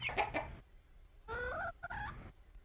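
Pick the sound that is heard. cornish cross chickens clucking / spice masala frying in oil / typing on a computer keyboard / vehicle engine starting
cornish cross chickens clucking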